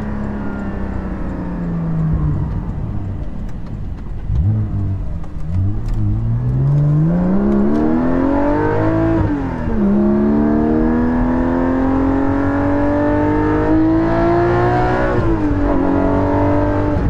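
Porsche 718 GT4 fitted with a Soul Performance rear exhaust section, revving and pulling through the gears on the road, a loud, close, continuous engine note rising and falling in pitch with each shift, no voices.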